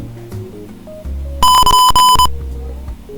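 An Arduino buzzer alarm goes off at the end of a work session, a loud, steady electronic tone with bright overtones lasting under a second, rising from quieter background sounds.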